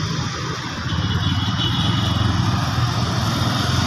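A worn, cheap motorcycle idles close by in a village setting with a steady, rough mid-pitched engine drone. It runs continuously and grows slightly louder after the first second.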